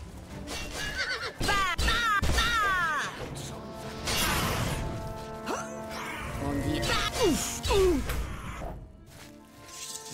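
A horse in the video game The Elder Scrolls IV: Oblivion whinnies several times, loud and close, mixed with hoof clatter, rustling and game ambience.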